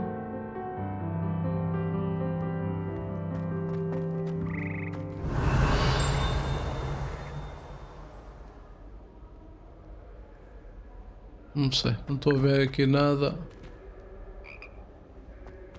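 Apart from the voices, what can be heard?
frogs croaking in the video game Hogwarts Legacy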